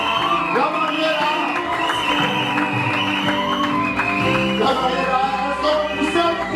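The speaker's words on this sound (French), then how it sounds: "est-ce qu'on va pousser les cris de joie ce matin?" A church congregation lets out cries of joy during a morning service: many voices shouting and whooping together with scattered clapping, loud and sustained over music.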